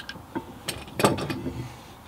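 A loose washer clicks and ratchets faintly inside a car's brake caliper during a pad and rotor job on a Genesis sedan, a few short metallic ticks and scrapes spread over two seconds, close and quiet with no talk.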